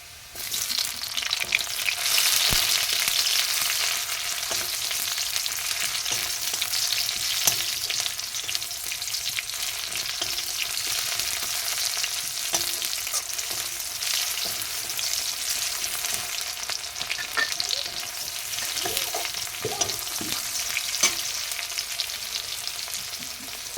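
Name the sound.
frying onions and chopped tomato in pan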